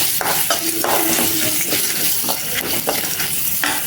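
Onion with fennel seeds frying in hot oil for crab gravy, a loud close crackling sizzle with intermittent spoon scrapes and stirring, and no voices over it.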